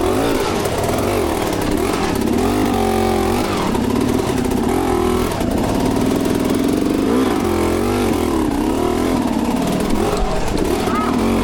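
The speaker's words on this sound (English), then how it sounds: "I rev the bike just before the ledge and come off the gas so I can hold traction on the rear tyre" A motorcycle engine revs briefly and then drops to low throttle as the bike climbs a ledge on wet rocks. It is loud and close and continuous, with the rider talking over it.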